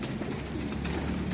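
Teddy pigeons coo amid a dense, steady wash of background noise, the soft bird calls partly buried in the hiss throughout the short stretch.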